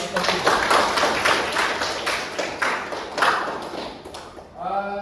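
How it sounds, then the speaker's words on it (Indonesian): A classroom of students applauding a group's presentation during a teaching practice session, dense clapping throughout, fairly loud, with a short tonal voice-like sound at the very end. "beri tepuk tangannya dulu"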